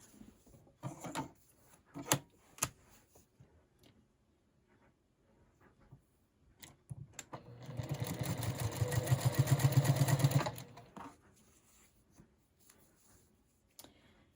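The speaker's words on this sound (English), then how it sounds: "So you can just sew this together just like we sewed yesterday's block together." A domestic sewing machine stitching pieces of a quilt block, running in a steady mechanical whir for a few seconds, preceded and followed by scattered taps and handling clicks of fabric and machine parts.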